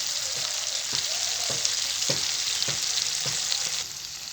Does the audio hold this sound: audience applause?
no